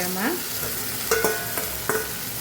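Fried okra being stirred into spices in a hot pan for a Kathiyawadi-style bhindi curry: close scraping strokes over a soft sizzle, with a voice speaking briefly over it.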